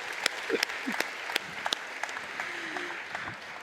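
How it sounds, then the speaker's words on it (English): Scattered audience applause at a conference session, with sparse, fairly faint individual claps spread through a few seconds, thinning out toward the end. "you've got 2 rounds of applause, Dan."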